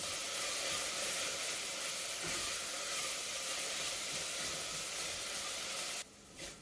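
Zucchini sizzles in a pan, a steady close hiss and crackle that holds evenly, then drops abruptly to a quieter hiss near the end with a small bump of handling.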